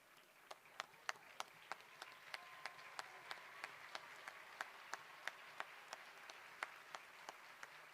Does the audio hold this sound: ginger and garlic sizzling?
no